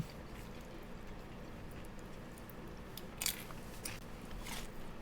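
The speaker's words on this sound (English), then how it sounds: "I just hear the nacho crunching now." Nachos being crunched give faint, close bites and crisp crackles, a few scattered crunches over a quiet, steady background.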